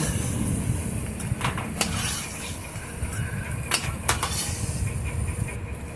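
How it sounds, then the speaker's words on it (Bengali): Fried peanuts are moved from a pan into another pot, heard as a few sharp metallic clinks and scrapes of a utensil against cookware over a steady low background hum. "এবার আমি বাদামগুলো অন্য একটা পাত্রে তুলে রেখে দেবো"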